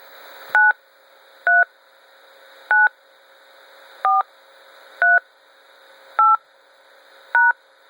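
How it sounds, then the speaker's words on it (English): Seven distinct telephone keypad tones beep one after another at a steady pace, each short and clear, over a faint background hum. "please enter your access code followed by the pound key"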